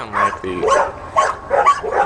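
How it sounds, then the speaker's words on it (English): Several dogs near a custom backyard fort bark repeatedly in short bursts, close and loud, with yips and whines between barks. "these dogs are gonna be in the background, unfortunately"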